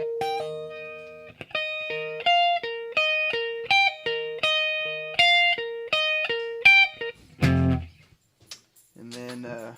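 An electric guitar runs through a Line 6 HD500 multi-effects unit set for a specific tone, playing a clean, repeated melodic riff of sustained notes, then a few louder, thicker strums near the end.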